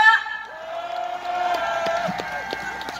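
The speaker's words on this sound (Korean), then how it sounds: "여러분 큰 박수 함성 부탁드립니다" A crowd at a political gathering in Korea breaking into cheering and whoops with scattered claps, moderately loud and continuous, with voices shouting over it.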